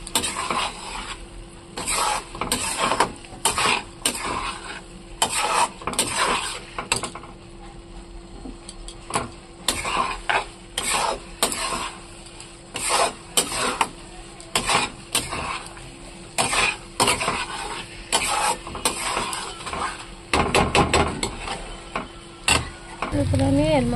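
A spatula scrapes and clatters as spices are stirred and sautéed in a pan for a tadka, in rhythmic bursts close by, with a low steady hum underneath.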